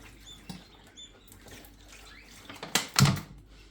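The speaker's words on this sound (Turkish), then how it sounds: "Önce biraz su ilavesi yapayım." Water is poured into a quail egg incubator during hatching, a few short splashes and trickles close up, the loudest bursts near the end, with faint chick peeps.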